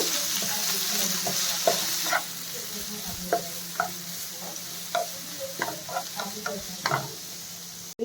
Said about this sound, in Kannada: ಇದನ್ನೆಲ್ಲ ಸ್ವಲ್ಪ ಚೆನ್ನಾಗಿ ಫ್ರೈ ಮಾಡ್ಕೋಬೇಕು